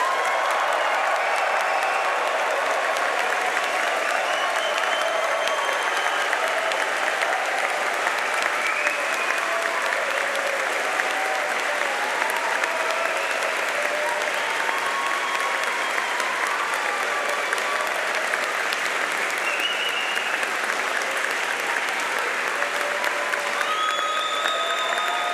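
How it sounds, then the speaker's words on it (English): Audience at a winter university graduation ceremony in a forum hall gives a long, sustained round of loud applause with scattered cheering, steady and dense throughout with no speech over it. "could we all give a final thunderous round of applause and the biggest cheer ever"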